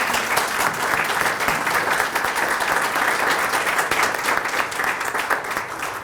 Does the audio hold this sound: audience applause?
yes